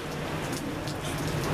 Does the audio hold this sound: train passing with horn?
no